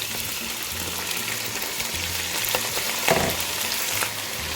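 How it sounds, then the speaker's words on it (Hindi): Half a kilo of chicken frying with browning onions, cinnamon stick and black cardamom in a pan for green chicken karahi, a steady close sizzle with occasional stirring scrapes, no talking. "और इसे थोड़ा सा फ्राई करेंगे चिकन को"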